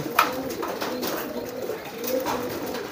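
Giring pigeons coo in soft, repeated low calls, close and fairly quiet, with a few sharper rustling sounds between the coos.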